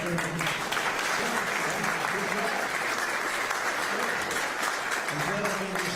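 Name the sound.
thunderous applause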